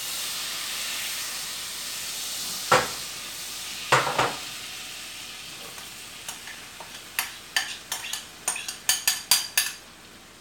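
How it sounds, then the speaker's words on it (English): Butter melting and sizzling in a pan while making homemade chili, a soft steady hiss broken by sharp spatters that grow more frequent toward the end, close and fairly quiet with no talking. "So my butter is melting."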